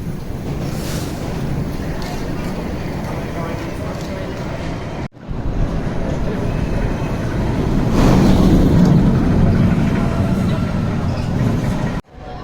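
Riding the Pit Special, a Gerstlauer roller coaster at PowerPark, brings a loud, continuous roar of wind buffeting and track rumble that swells midway, with two abrupt drop-outs where the noise briefly cuts.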